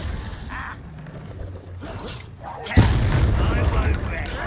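A loud Confringo blasting curse from Hogwarts Legacy erupts in a sudden heavy boom partway through, followed by a sustained rumbling roar over low game combat noise.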